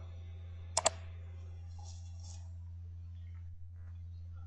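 Two quick mouse clicks close together, small and crisp against a steady low electrical hum, then only faint scattered ticks.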